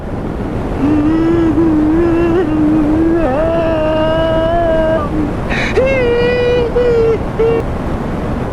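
A Suzuki Raider 150 fuel-injected motorcycle revs hard in a drag race against an RS150R, its loud engine note climbing and holding through shifts over strong wind roar, with voices faintly in the background.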